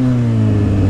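A Suzuki SRAD 750 motorcycle engine revs steadily at close range, a loud, sustained tone that climbs slightly across the short burst, with no voices over it.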